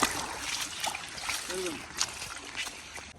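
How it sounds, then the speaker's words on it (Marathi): Rainwater runoff from flooded village fields pours and splashes downhill after a heavy storm, a steady nearby rush of running water with light splatter throughout. "इथून पूर्ण पाणी रानातलं पाणी पूर्ण खाली येतंय बघा"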